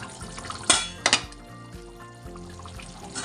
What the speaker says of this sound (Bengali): এখন আলু আর পটলটা দিয়ে দেবো।